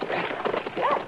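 A dog whimpers briefly in a Gunsmoke radio drama, a short rising whine heard over hoof clip-clops and background room noise.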